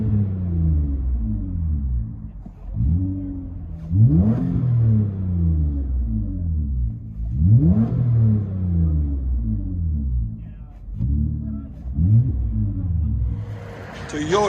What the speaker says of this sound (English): 21 Toyota Camry V6. Muffler delete and vibrant in the middle. Let you guys hear it on the inside.